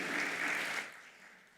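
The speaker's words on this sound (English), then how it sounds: "give Dr. Ngobo and Mr. Nick Danny Nolta another round of applause" Conference audience at an asset management indaba applauding, a dense wash of clapping that starts full and fades away over under two seconds, no voices.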